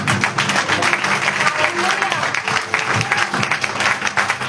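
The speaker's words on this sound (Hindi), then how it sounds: "अभी ताली बजा सकते हैं।" A church congregation applauds during a Hindi sermon, a dense, steady clapping that stays loud throughout with a murmur of voices mixed in.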